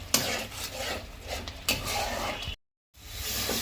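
Spice masala for a Bengali-style fish curry being stir-fried in a pan, soft sizzling under repeated scraping and clinking stirs, broken by a brief moment of silence near the end.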